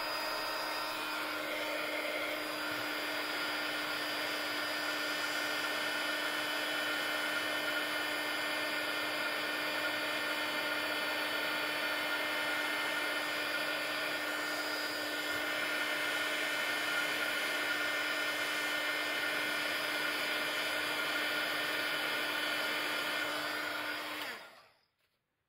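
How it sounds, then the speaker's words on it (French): A heat gun blows hot air for heat embossing, a steady high-pitched whirring roar that runs unbroken for about 24 seconds at close range and then cuts off abruptly. "On reprend le pistolet à chaleur."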